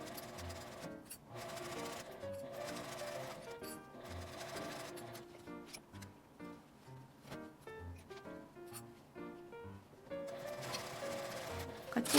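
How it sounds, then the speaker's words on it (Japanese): A sewing machine stitches a palm-sized round pouch with a 12 cm zipper, running in short whirring bursts of rapid needle chatter separated by brief pauses, close and moderately quiet. "縫い目の下を縫います。"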